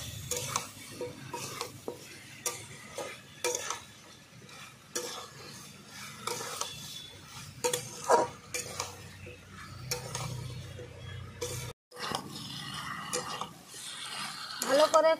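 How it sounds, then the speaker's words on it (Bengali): Prawns and plantain sautéing with turmeric and salt in a pan, a continuous sizzle broken by repeated spoon stirring, scraping and clinks against the pan, with a short drop to silence near the end. "লবণ, ভালো করে আবার কষিয়ে নেব।"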